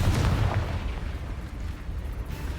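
A Confringo spell blast erupts in Hogwarts Legacy, a loud booming burst at the start that rolls into a low, rumbling tail and fades slowly.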